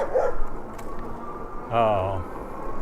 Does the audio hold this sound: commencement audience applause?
no